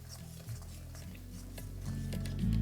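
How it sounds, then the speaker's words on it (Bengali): Spices, Kashmiri chilli powder and salt being stirred into Bengali egg curry (dim kosha) in a pan, with a soft steady sizzle and scraping that grows slightly louder toward the end, close by with no talk. "তারপর ভালো করে এটাকে একবার মিশিয়ে নেবো।"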